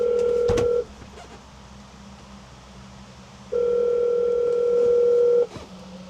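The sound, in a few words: telephone number being dialed, touch-tone beeps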